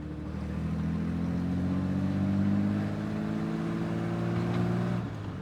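A 1965 Brasinca 4200 GT sports car with 155 horsepower revs nearby, its engine a strong, even drone whose pitch climbs slowly before easing off near the end.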